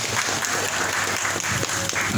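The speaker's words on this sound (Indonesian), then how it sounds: "tepuk tangan dulu dong teman-teman peserta." Talk show participants clapping together indoors, a short burst of dense, lively applause from a group at close range, with no voices.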